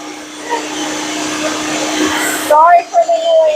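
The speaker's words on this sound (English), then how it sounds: "And then we put the cream cheese in and we'll blend it." An electric kitchen blender whirs loudly and steadily, blending cream cheese, then stops abruptly; afterward its motor spins down with a fading whine over faint room noise.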